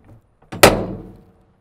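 A truck door swings shut with a single solid, heavy thunk, close and loud, preceded by a faint click and followed by a short fading rattle.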